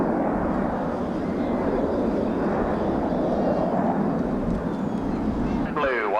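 RAF aerobatic team jets roar overhead during a 1989 airshow display at RAF Scampton, a broad, steady jet rush filling the clip with a faint commentary voice beneath.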